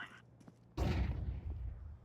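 A flashbang grenade goes off in Counter-Strike 2 with one sharp, loud bang after a brief quiet stretch, then a rumbling decay that slowly fades.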